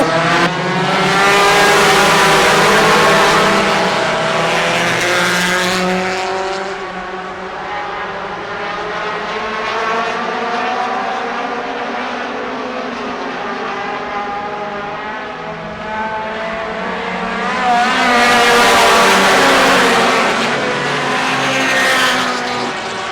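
Loud roaring engines of modified, late model, street stock and front-wheel-drive race cars sweep past at Kalamazoo Speedway, the pitch rising and falling as a pack of cars passes close by, with no talking.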